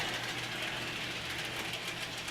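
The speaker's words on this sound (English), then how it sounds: "Here comes our train again" A Bachmann Union Pacific model train runs on its track in a railroad-themed college dorm room. It gives a faint, continuous rumbling hum with a soft, steady clatter, and no voice over it.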